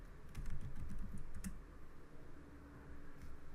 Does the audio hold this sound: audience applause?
no